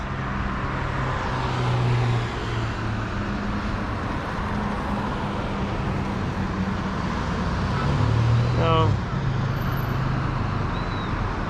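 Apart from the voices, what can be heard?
morning road traffic in Guyana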